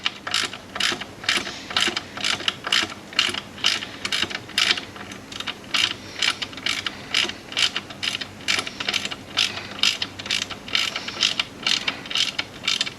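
A ratchet wrench tightens the band adjuster on an A4AF3 automatic transmission during a rebuild, giving a fast, even run of close, sharp metallic clicks that repeats for about thirteen seconds, with no speech.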